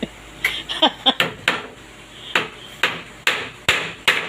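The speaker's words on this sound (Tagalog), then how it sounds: "Bigyan mo ng martilyo sa kapako" Hammer blows striking nails, a dozen or so sharp impacts at an uneven pace, some in quick bursts, close by and fairly loud.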